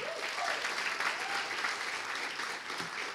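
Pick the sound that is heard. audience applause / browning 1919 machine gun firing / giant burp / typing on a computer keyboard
audience applause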